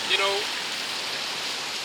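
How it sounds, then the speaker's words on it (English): Steady rain hisses down on a street, a soft continuous wash with a brief higher chirp near the start and no voices. "it was raining, and it is still raining"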